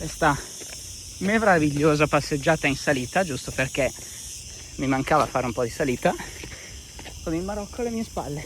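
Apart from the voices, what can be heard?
loud crickets chirping near Gibraltar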